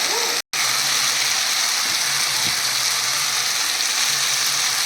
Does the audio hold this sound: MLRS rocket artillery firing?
no